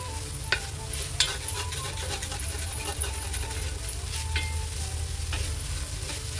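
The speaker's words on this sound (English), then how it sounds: "I'm gonna crumble my tofu right into the pot. So I am cooking my tofu first" Crumbled tofu sautéing in a pot, a steady close sizzle with a few sharp clinks and scrapes of a utensil stirring, no voices.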